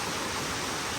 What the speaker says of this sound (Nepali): पोखरामा आज भीषण पानी ए वर्षा रे